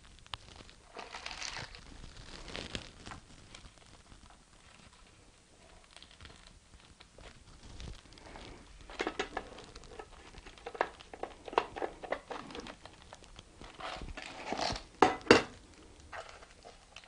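Small notches being cut into a lightweight insulating pot cozy for an ultralight backpacking cookpot, heard as quiet, close scraping and crinkling with irregular sharp snips that grow busier and louder toward the end, with no talking.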